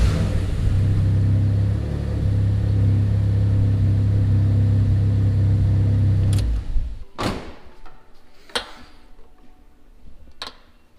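A car engine with an oil leak runs at a steady idle, a loud low hum for about six seconds, then shuts off, followed by a few sharp knocks and clatters in the quiet.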